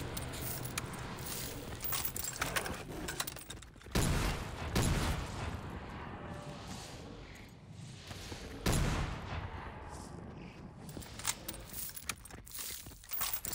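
Shotgun blasts in a zombie video game, a few heavy booming shots spaced several seconds apart, set among clattering and clinking game sounds.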